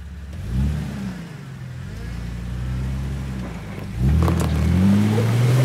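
An off-road vehicle engine revs hard while climbing a steep, off-camber trail, holding a loud, steady roar. It dips briefly and then surges louder as the throttle opens wide again.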